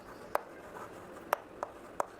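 Chalk or marker taps and strokes on a board while a sentence is written out, four short sharp clicks spaced irregularly over a quiet room, close and fairly crisp.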